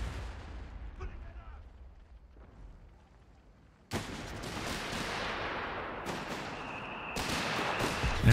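Machine gun and mortar fire in the Company of Heroes 3 video game, a quiet rumble with distant shots that gives way to loud, dense bursts of gunfire and booming explosions, while a voice talks over it.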